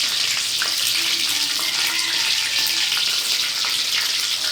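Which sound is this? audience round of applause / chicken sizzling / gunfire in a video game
chicken sizzling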